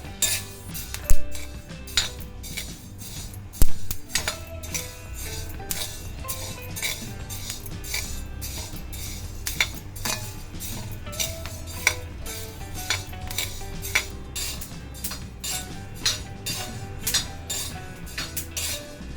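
Close scraping and clinking of a metal spatula over a hot iron griddle, with small irregular crackling pops from roasting horse gram.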